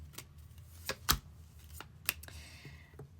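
Tarot cards being handled and drawn, giving a series of sharp, close papery flicks and snaps with quiet pauses between them and no talking.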